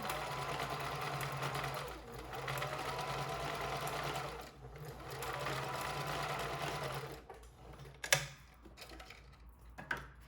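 A sewing machine stitches down the main panel of a fabric face mask in steady mechanical runs that pause and restart, close and fairly loud, with a few sharp clicks from handling near the end.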